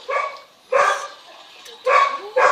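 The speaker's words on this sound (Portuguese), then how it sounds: "meu cachorro não para de latir" A dog barks in short loud bursts, about four separate barks with pauses between them, close by indoors.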